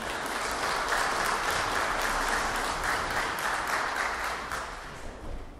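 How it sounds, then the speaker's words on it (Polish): A concert audience at a community cultural centre claps steadily, a full even round of applause that tapers slightly at the end. "Wielkie brawa dla państwa."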